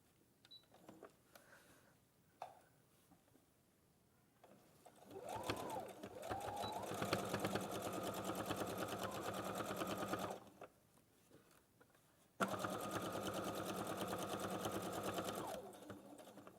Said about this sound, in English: this time we are only going to sew round 3 sides